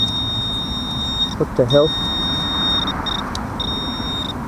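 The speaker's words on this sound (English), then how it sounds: "I just put the pinpointer down and I got a squeak, beep, whatever." A metal detector pinpointer held outdoors gives a steady high electronic beep that cuts off and resumes in bursts, while someone briefly speaks in surprise.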